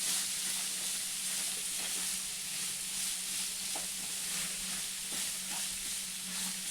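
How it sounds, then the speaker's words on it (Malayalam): Thinly sliced onions fry in a pan with a steady, moderately loud sizzle and hiss, and occasional stirring sounds rise over it. "നന്നായിട്ട് സബോളയൊന്ന് വഴറ്റി കൊടുക്കാം."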